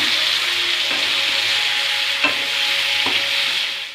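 Raw mango pieces are stirred into hot oil with turmeric for a sweet pickle, giving a bright continuous sizzle with a few sharp spatula knocks against the pan.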